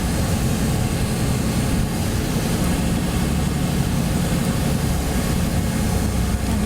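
A fixed-wing aircraft's engine runs at reduced power just before touchdown, a steady, loud low-pitched drone with broadband rush that holds evenly throughout, with no talking.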